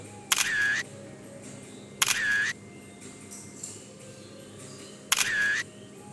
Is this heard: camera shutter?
yes